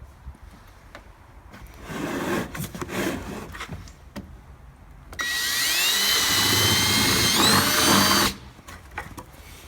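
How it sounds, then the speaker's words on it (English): Scraping and shuffling lead into a power drill running steadily for about three seconds with a high whine, close up, drilling a hole in a large bucket, before cutting off abruptly. "So I'm just going to drill a hole that's a little bit higher."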